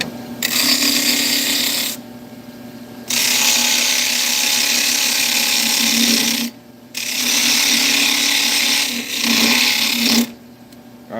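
A woodturning tool cuts wood spinning on a lathe, giving a loud, steady hissing and tearing rasp in long passes broken by brief pauses where the tool lifts off.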